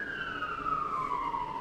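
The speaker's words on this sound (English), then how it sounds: "I wasn't really expecting a siren." An emergency vehicle siren wails outside an open window, a single steady tone sliding slowly downward as it passes, moderately distant and fairly quiet, with no talk over it.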